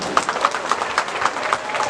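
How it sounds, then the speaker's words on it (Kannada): An audience breaks into applause for a guest, a quick run of claps blending into steady clapping from a crowd. "ಸೊ ಈಗ ಅದೇ ಶಶಿ ಸರ್ಗೋಸ್ಕರ ಒಂದು ಜೋರ್ ಚಪ್ಪಾಳೆ."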